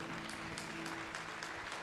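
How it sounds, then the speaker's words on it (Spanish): A church congregation claps together in a continuous, fairly faint patter that holds evenly for about two seconds, with a low hum beneath it. "Dale un aplauso."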